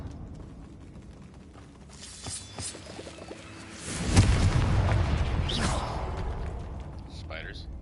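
A Confringo spell in Hogwarts Legacy erupts as a loud, rumbling blast that swells in the middle and fades out with crackling debris. Talk is heard earlier in the clip.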